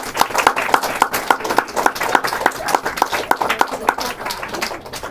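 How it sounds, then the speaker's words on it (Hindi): A church congregation claps loudly, with many hands mostly in unison in a quick, steady rhythm over several seconds, under some background voices. "ताली बजाइए जोर से।"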